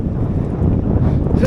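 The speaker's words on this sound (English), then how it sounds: "it's a bit windy out here today." Steady wind buffets the microphone in a constant low roar on the beach at Eype, Dorset, with a faint wash of surf in the background and no voices.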